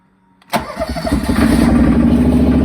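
A John Deere 425 or 455 garden tractor engine cranks and catches after a quiet start, then settles into a steady, fairly loud near idle that rises slightly and holds, with no talking.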